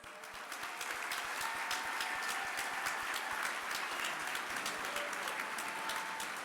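An audience at the Orange County Community Foundation's 35th anniversary celebration applauds a band, a dense, steady roar of many hands clapping that holds loud and even for the whole stretch.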